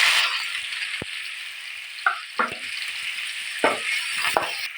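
Cumin seeds fry in hot oil in a heated pot, giving a steady bright sizzle broken by a few short clinks and scrapes of stirring.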